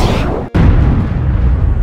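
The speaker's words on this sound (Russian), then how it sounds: "Робот, выстрел!" A loud blast-like zap from a PJ Masks toy robot cuts in after a brief dropout, followed by a sustained rumbling burst, like a toy's electronic shot effect.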